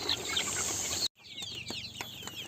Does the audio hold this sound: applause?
no